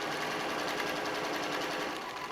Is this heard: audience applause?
no